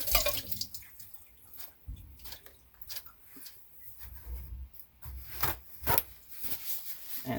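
Running water splashes and drips while something is washed in a sink, in soft irregular spatters and trickles, close and fairly quiet.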